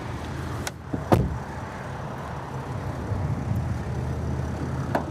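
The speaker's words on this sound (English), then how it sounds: "your hood release is going to be right here on the left side" Hood latch being released and opened on a 2023 Winnebago Adventure Wagon 70SE van: two sharp, close clunks within the first second, then a steady low background hum.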